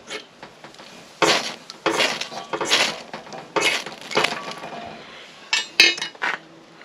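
A ferrocerium rod is struck repeatedly against a scraper to throw sparks onto a bundle of nettle fibres, producing a series of harsh, close rasping scrapes in uneven bursts, loud and without speech.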